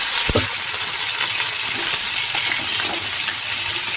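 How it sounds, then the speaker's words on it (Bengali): Capsicum and onion fry in a hot pan with chopped garlic and ginger, giving a steady close sizzling hiss with a brief clink near the start. "এই ক্যাপসিকাম পেঁয়াজটা একটু ভাজা ভাজা হয়ে আসলে"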